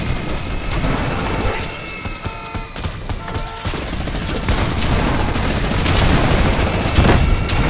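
Video game gunfire, loud and close, with rapid fusillades of shots and booms, dense bursts early on and sustained firing building toward the end, without talk.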